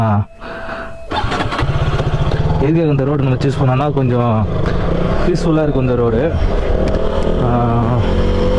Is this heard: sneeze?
no